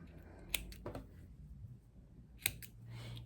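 Dropped fabric scissors clatter during a sewing session making a blouse, with a few sharp metallic clicks and knocks spaced out against a quiet room.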